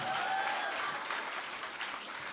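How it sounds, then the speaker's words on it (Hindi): Audience clapping at a Hindi comedy poetry gathering, a dense, steady round of applause that holds evenly for a couple of seconds with no voices over it. "ताली बजाओ, जोरदार ताली बजाओ एक बार"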